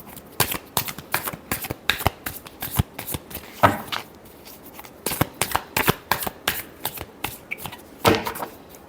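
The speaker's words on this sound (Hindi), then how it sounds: "Last shuffle." A deck of tarot cards being shuffled close up, a quick run of crisp riffling and flicking bursts with no talk over it.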